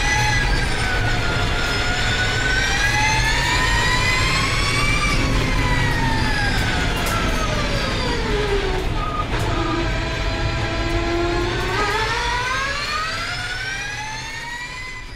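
A Ford Supervan 4 electric van with 2000 hp runs with a loud, sustained whine that sweeps steadily down and back up in pitch like a jet turbine, layered over a broad rumble and fading slightly at the end.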